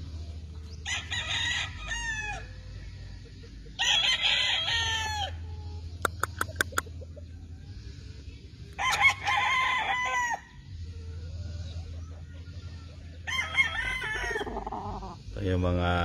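Gamefowl roosters on a big farm in Claveria, Philippines crow repeatedly, several loud calls spaced a few seconds apart over a low background hum, with a few sharp clicks and someone talking between crows.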